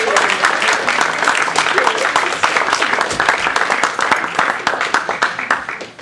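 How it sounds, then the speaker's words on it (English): Dense audience applause for contest participants at a spring North Division contest, a steady wash of many hands clapping near and loud for about six seconds, fading slightly at the end. "can we get a big round of applause for all of our contestants?"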